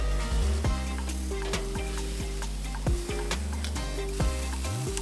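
Ribeye cap steaks sizzle on a charcoal grill with a steady, close hiss and crackle, broken by a few sharp metallic taps and scrapes as the meat is turned.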